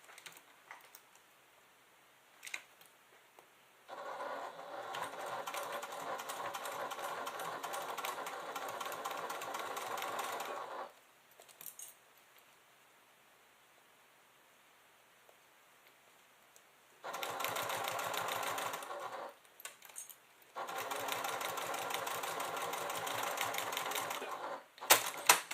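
Sewing machine top stitching a clutch bag hums and rattles in three sustained runs of several seconds each, close and steady, separated by quiet pauses with small handling sounds.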